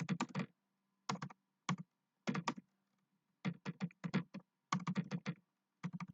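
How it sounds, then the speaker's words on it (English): Quick bursts of keyboard typing, close and clear, with short pauses between each run of clicks. "I have my keyboard elevated, so it's a little hard for me to type."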